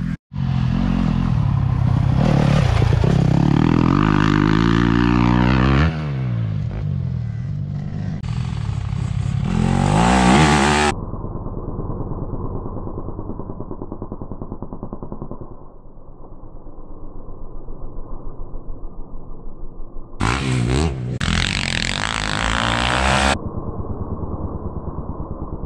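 A dirt bike engine revs hard during seat-bounce jump riding, loud and close, rising and falling through throttle blips with abrupt cuts and a lower steady drone between bursts.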